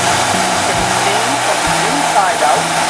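A garment pressing machine at a dry cleaner blows air through inside-out trousers, a loud steady rushing hiss with a low mechanical hum underneath, continuous throughout.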